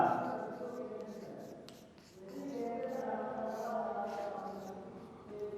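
Chalk or marker scratching on a board in a Hindi literature class, a run of short rubbing strokes with soft taps, heard under a teacher's low speaking voice.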